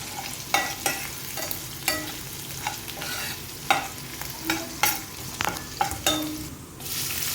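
Crushed ginger-garlic paste fried in plenty of oil for eggplant bharta: a constant close sizzle broken by repeated sharp scraping and tapping strokes of a spatula against the pan, with no voices.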